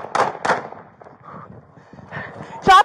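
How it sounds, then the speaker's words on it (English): Two quick sharp gunshots ring out close together during a tense police confrontation with an armed man, followed by raised voices shouting commands. "Shots fired."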